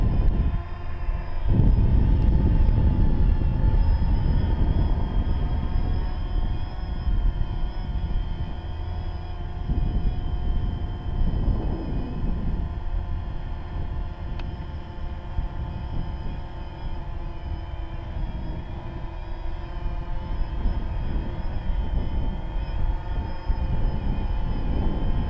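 A DJI Phantom quadcopter flies in wind, its rotors giving a continuous droning whir with steady hum and wind rumble, fairly near and unbroken, no voices.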